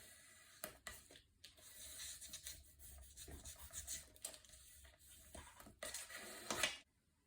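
A tool or hand rubs tape down on a Stamperia Magic Forest mini album cover in soft, uneven scraping strokes, quiet and close, with short pauses between passes and no talking.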